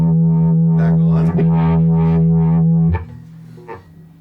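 A DigiTech Ventura Vibe pedal with its tone turned up puts out a loud, bright, distorted guitar tone that holds a sustained chord, then cuts off and leaves a brief softer note.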